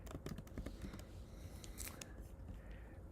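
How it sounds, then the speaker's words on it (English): Rapid clicking of keys typed on a computer keyboard, uneven bursts of taps that are quiet and close. "I'm typing it into the internet."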